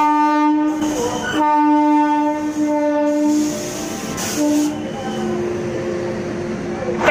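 A train at a station sounding its horn: loud sustained horn blasts with stacked harmonic tones over the rolling rumble and clatter of carriages, the horn fading toward the end.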